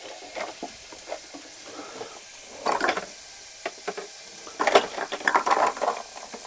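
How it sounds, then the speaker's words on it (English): Minced meat frying in a pan while being stirred and broken up, with soft sizzling and scraping in scattered bursts, close and moderate in volume, with no talking. "Get this mince broke up."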